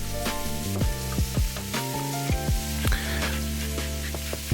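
Onions sautéing in a pan, sizzling under louder clanking and stirring noises with a steady musical tone running underneath.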